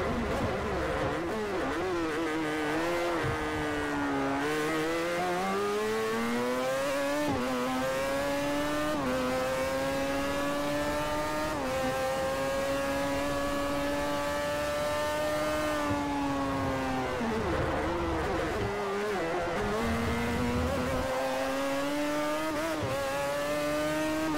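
A rotary-engined race car in Forza Motorsport 4 drones loudly and continuously, its buzzing engine note climbing through the gears, dropping at each shift and falling away on lifts, over about twenty-five seconds.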